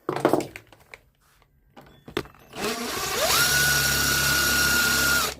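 Power drill working on a plastic AC outlet during a 220v outlet rebuild: a few handling knocks, then the motor spins up with a rising whine and holds a loud, steady drone to the end.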